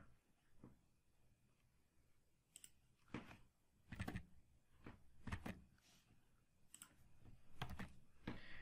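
Keys on a computer keyboard clack in quick irregular clusters while code is typed, a close, faint series of clicks with short pauses between bursts and no talking.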